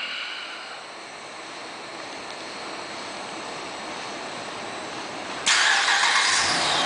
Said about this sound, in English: Let's go ahead and do the remote start.